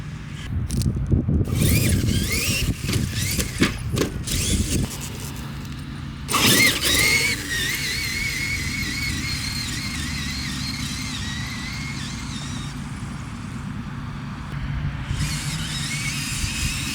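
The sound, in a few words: Traxxas Xmaxx RC car doing reverse wheelies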